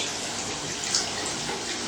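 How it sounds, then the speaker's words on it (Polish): Water runs in a steady, hissing stream to rinse Slime sealant out of an ordinary car tyre at a tyre shop. The flow is constant and fairly close, with no voices. "Slime wypukuje się wodą."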